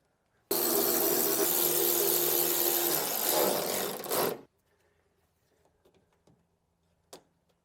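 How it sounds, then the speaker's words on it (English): A power tool whines loudly and continuously for about four seconds while tightening 10 mm nuts on the rear spoiler trim of an S650 Mustang, then cuts out, leaving faint clicks and a soft tap. "Now we need to finish tightening the trim up with all these 10 millimeter nuts."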